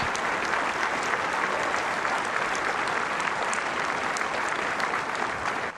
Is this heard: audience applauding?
yes